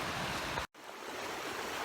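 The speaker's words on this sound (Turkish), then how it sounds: "derenin kenarına sandalyelerimizi kurduk. Su sesi eşliğinde biraz dinleniyoruz." A creek flowing beside a riverbank, a steady broadband rushing wash of water heard close and alone, broken by a brief sharp dropout near the start before the flow resumes evenly.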